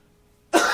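A single sharp cough erupts after a moment of near silence, loud and close to the microphone, during a live wrestling talk show.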